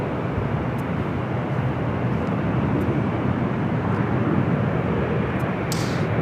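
Airliner arriving at Los Angeles LAX airport, a broad, steady jet roar that holds at a constant loudness throughout, heard from outdoors at a moderate distance.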